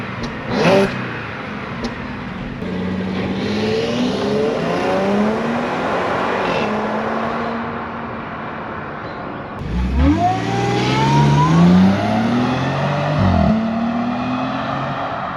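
Supercharged 3.0T Audi A6 engine revving hard: two rising and falling rev sweeps, fairly close and loud, with no talking.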